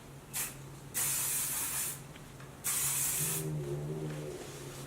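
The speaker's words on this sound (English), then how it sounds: "and then I take my spray" Two long bursts of hair spray hiss from an aerosol can close by, separated by a brief pause, with a faint background hum.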